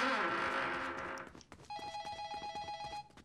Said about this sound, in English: Let's go answer this fucking phone.